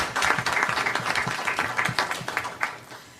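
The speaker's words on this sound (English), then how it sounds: "Please give a round of applause for the folks who have joined us today for this" Scattered audience applause for seminar panelists, moderately distant, an irregular patter of hands from a modest crowd that tapers off after a few seconds.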